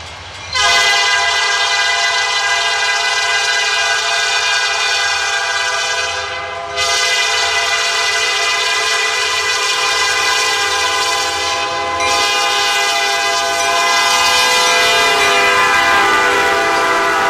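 A Norfolk Southern train rolls steadily north past railroad equipment in Pleasant Lake, Indiana, in winter, its horn sounding in long sustained blasts, loud and close, with brief breaks between blasts.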